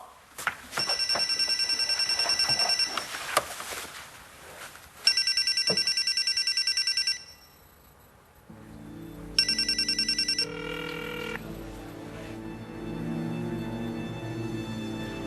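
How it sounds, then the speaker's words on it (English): An electronic telephone ringtone sounds in loud repeated bursts of bright warbling tones separated by pauses. A different, softer melodic tone then plays beneath the last ring and carries on to the end, with no one talking. "Hey, buddy, your phone."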